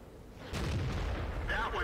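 Tank cannon shots in a tank video game, an AMX 13-90 firing on a T-54E1: a deep booming blast with a rumbling tail, followed by a fainter sharp report, with talk over it.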